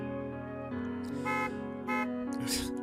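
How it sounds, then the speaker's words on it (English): Car horns honk in short bursts over a steady, droning tonal background in the video game Narcissu, several blasts overlapping within a few seconds. "The sound of honking car horns, those were directed at me as I cut into the road."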